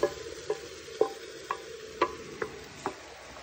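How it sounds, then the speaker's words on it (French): Mushrooms browning in a frying pan for blanquette de veau, a faint steady sizzle under a series of about seven evenly spaced utensil taps and scrapes against the pan, close by with no talking. "Je fais bien dorer les champignons."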